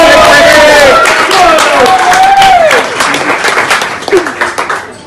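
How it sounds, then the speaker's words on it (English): Wedding guests at a treehouse wedding reception in Alnwick break into loud, close applause that fades into scattered claps, with some cheering and voices mixed in. "she deserves a round of applause for that"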